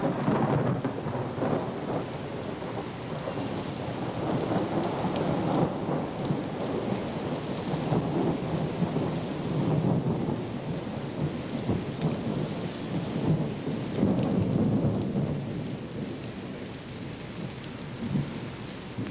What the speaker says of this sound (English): Can we listen to the Thunderstorm?